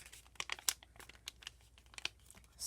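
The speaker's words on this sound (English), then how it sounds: "fold this all in half" A sheet of origami paper is folded in half, giving soft, close crinkles and quick papery creasing rustles at low volume.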